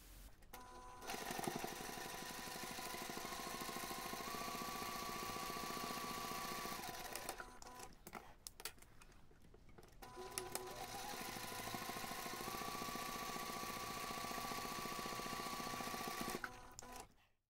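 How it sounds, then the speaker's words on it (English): A sewing machine runs two long, steady bursts of top stitching along a backpack seam, with a continuous close mechanical whir and a brief pause between them. "take this to the machine and top stitch along both sides of the seam"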